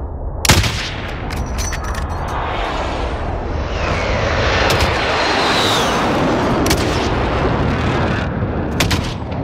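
Gunfire in a video game, loud sharp shots cracking out in scattered bursts over a heavy rumbling roar of aircraft engines and battle noise.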